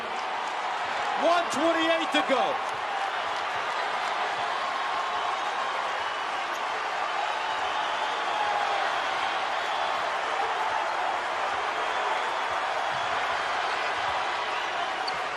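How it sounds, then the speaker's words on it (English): Arena crowd at the Providence vs Villanova Big East Basketball Tournament final roars in a dense, sustained wash of noise, with a commentator talking briefly over it near the start. "Listen to this crowd."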